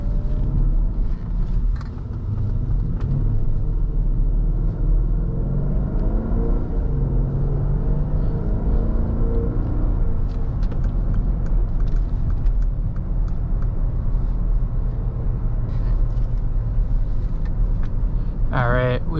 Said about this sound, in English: if you do need to get up to speed quickly, or just want to have a little bit of fun in your 3-row SUV, this does let you do that